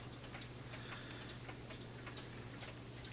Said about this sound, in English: Here are a couple examples of time-only clocks. Time-only, spring-driven.